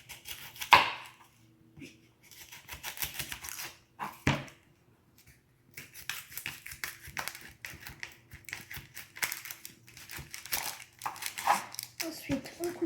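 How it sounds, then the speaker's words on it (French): A knife chops the ends off an onion on a cutting board, with bursts of quick, close taps and cuts separated by short pauses, while someone talks. "Cet oignon, il faut d'abord découper les deux extrémités."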